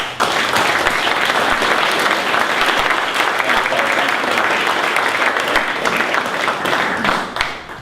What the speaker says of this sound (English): how about a round of applause for Jim?